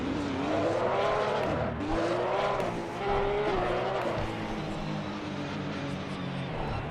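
Porsche Cup race cars pull away to warm their tyres, with loud engine notes rising and falling through gear changes, overlapping roars and a steady wash of track noise.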